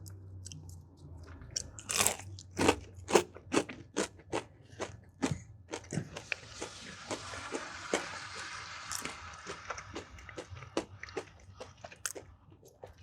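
Crunchy bites into a Popeyes spicy chicken tender from a three-piece order, loud close crackling crunches followed by steady wet chewing with repeated bite clicks, no talking.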